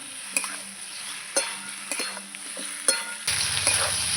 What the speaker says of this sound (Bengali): নাড়াচাড়া করে কষিয়ে নেব আমি একটু কষাবো